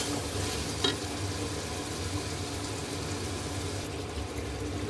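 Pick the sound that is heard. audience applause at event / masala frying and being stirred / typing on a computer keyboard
masala frying and being stirred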